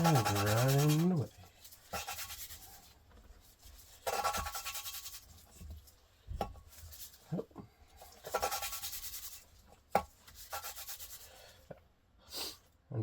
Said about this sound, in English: Then a suction cup and grind away.